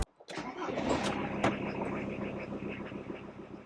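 A Volkswagen T4 campervan engine, long neglected, cranks briefly, then catches and settles into a steady, close idle.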